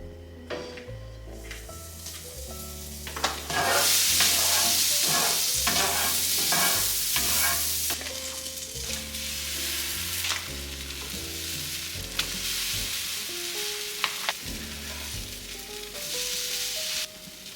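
A little butter, Country Crock, sizzles in a pan ahead of cooking a crepe, a bright, crackling hiss that swells midway and stays under steady background music.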